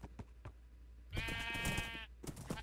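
A sheep in Minecraft bleats once, a sustained wavering bleat at moderate level over soft ambient game noise and faint clicks.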